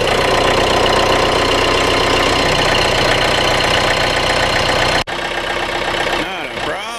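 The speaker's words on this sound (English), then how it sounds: "got to do a greasy, grimy cold start on the old girl here" A 110 TLB tractor engine cold-starts and idles, a loud, steady diesel clatter with a knocking pulse, followed by a short break and a rougher, shifting rumble.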